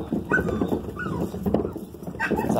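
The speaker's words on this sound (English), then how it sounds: "All the dogs are mad right now." Several dogs barking and whimpering together, a loud, close jumble of yips, whines and short barks that runs throughout with no pause.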